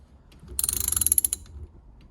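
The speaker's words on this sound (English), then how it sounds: "I've got the proper size socket on there, and I'm just gonna tighten this down" A socket ratchet tightening a fastener on a Vega steering wheel: a quick, close burst of about a dozen rapid metallic clicks lasting under a second, no talking.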